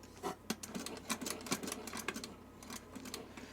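Sewing machine with needle and looper running a test stitch, a rapid quiet series of mechanical clacks in an uneven rhythm, heard close and alone.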